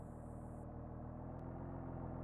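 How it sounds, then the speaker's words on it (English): Aircraft pushback truck engine droning steadily at low volume, a faint continuous mechanical rumble with a brief click partway through. "Oh no, that's a pushback truck."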